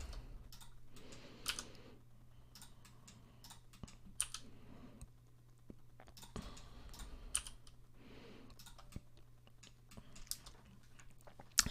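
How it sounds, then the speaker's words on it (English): Keyboard keys pressed and mouse buttons clicked while working in Blender on a 3D model with extrude, heard as sparse, irregular close-up taps and clicks over a steady low hum, with no talking. "just by pressing E, left clicking, making a new selection, pressing E, left clicking"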